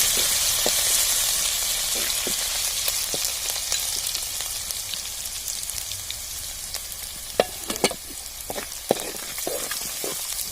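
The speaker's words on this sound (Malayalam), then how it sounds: "ഇനി ഇഞ്ചി, വെളുത്തുള്ളി, പെരുംജീരകം ചതച്ചതിനെ അതിലേക്ക് നല്ലപോലെ വഴറ്റണം" Crushed ginger, garlic and fennel sauté in hot oil that has just popped mustard seeds, for a Kerala egg roast. A dense, steady sizzle is broken by occasional sharp pops and spatula clicks, close and continuous with no voices.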